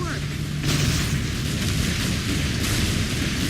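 Destroyed enemy orb in a sci-fi team battle game bursts in a deep, rumbling boom that swells and lingers over a continuous noisy battle din, with a voice speaking over it.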